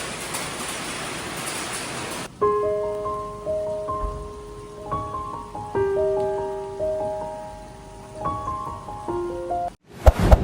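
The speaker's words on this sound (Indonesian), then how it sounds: "Lihat hujannya menetes-netes." Early-morning rain patters as a dense hiss for about two seconds, then gives way to a soft, slow electronic melody of sustained notes that plays for the rest of the clip.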